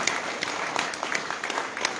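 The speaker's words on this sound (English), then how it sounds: "give yourselves a clap for that" A public meeting audience gives itself a round of applause: a sustained patter of many hands clapping, moderately loud, with a few sharper individual claps standing out.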